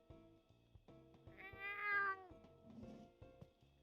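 A game cat in Coffee Talk 2 lets out a clear, rising meow in the middle of looping background music, with a shorter mew after it, and no one speaks.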